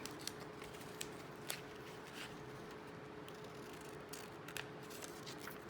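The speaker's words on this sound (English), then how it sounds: "I've just cut the top of my picture off" Scissors cut through a paper picture along a zig zag line, making faint, sparse snips and crisp paper rustles against a quiet room.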